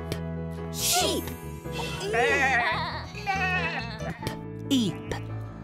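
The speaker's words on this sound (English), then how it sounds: "Sheep." Several sheep bleat in wavering calls, close and fairly loud, over a bouncy musical backing with light jingles.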